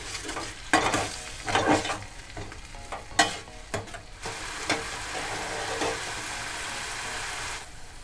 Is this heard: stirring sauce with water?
yes